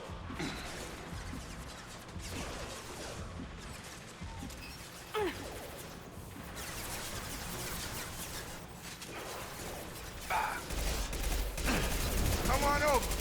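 Gunfire crackles through a combat scene in the video game Mass Effect 2, with scattered shots and bursts, metallic crashes and heavier volleys near the end, while voices speak intermittently.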